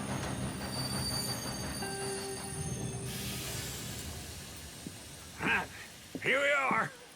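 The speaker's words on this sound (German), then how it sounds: "Schön mit dem Zug." A train ride in Red Dead Redemption 2: a steady rolling rumble with high squealing wheels, fading to quieter rail noise, then two brief voiced sounds near the end.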